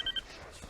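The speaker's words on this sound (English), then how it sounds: "Shoot, I forgot to turn off my cell phone." A cell phone rings in a Nancy Drew mystery game, giving two quick faint electronic chirps at the start over a quiet room hum.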